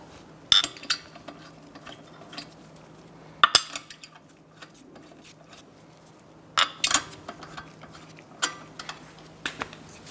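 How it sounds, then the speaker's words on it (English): Wheel fasteners on a Fiat 500 are threaded on by hand, giving sparse light metallic clinks and taps spread across a quiet background, with a few sharper rattles of loose hardware. "Install your wheel fasteners by hand at first."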